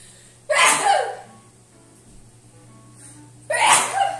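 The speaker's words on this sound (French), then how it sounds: "Je vais éternuer." Two loud, close sneezes about three seconds apart, each a sharp burst with a quiet breathy gap between them.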